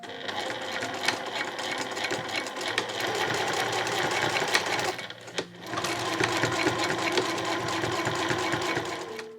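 A sewing machine back-stitches a seam near the edge of a shoulder bag's fabric: a fast, steady mechanical whirr in two long runs split by a brief pause.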